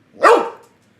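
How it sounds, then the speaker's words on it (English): A single sharp dog bark, loud and close, in a quiet indoor room, a short demanding woof begging for a cracker with nothing else around it. "That's my dog, Nikita, saying, give me another cracker"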